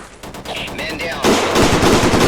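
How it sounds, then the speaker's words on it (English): Video game gunfire from AI suppressive fire: rapid automatic bursts rattle in quick succession, growing louder and denser partway through, with a voice briefly heard. "So both suppressive fire from friendly AI as well as the enemy AI there."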